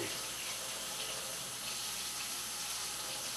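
A kitchen tap runs steadily while food is washed under it, giving a constant soft hiss of flowing water with no break and no voices.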